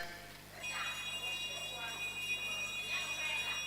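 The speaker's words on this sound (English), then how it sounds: "Katie, are you ringing the bell?" A bell rings at a live national business quiz championship, giving a steady, bright, sustained ring that carries through a quiet room, with faint voices underneath.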